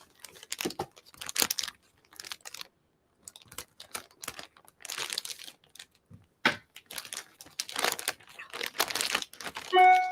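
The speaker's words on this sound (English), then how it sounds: "I'm just gonna use some scissors here and open this guy up." Plastic packaging around a Bedsure cooling blanket is cut open with scissors, giving close, intermittent crinkling, tearing and crunching bursts separated by brief quiet gaps.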